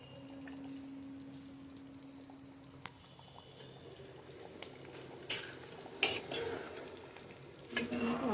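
Egg curry bubbles and simmers in a pan, a faint continuous sizzle with scattered soft pops and a few louder clinks and stirring sounds toward the end.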